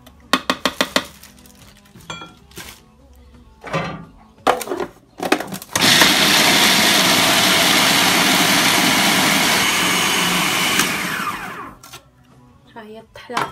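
An electric grinder grinds almonds with icing sugar in a loud, dense whirring burst lasting about five seconds, preceded and followed by clatter and handling knocks.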